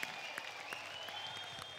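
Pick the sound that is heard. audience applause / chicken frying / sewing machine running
audience applause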